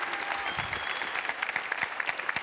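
Audience at an opening keynote of a tech conference applauding steadily, a dense wash of hand claps filling the room throughout with no pauses.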